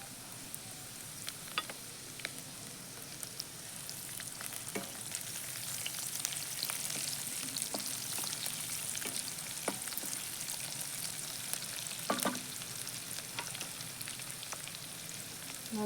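Cut green chillies frying in a pan for a dill leaf stir-fry, a steady soft sizzle with scattered crackles and spatula taps, close but fairly quiet, no voices.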